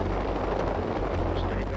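A rescue helicopter hovers over a backcountry tractor rollover scene, a loud, steady rotor and engine roar filling the whole moment without letup.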